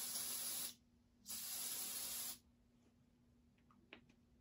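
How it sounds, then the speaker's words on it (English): Two bursts of aerosol smoke-test spray aimed at a smoke detector hiss, the first short and the second longer, close and fairly loud, followed by quiet background with a faint click. "And we'll go ahead and spray the smoke"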